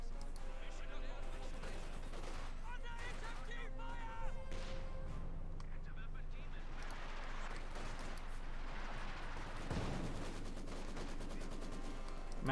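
Maxim machine gun fire rattles in a Company of Heroes 2 match, Soviet forces against OKW, mixed with explosions and crashes, quiet and busy beneath a caster's steady commentary.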